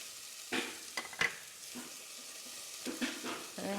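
Lentil peas and onions sizzling in a pan, heard as a quiet, soft frying hiss broken by a few short stirring scrapes and clatters, with no talking.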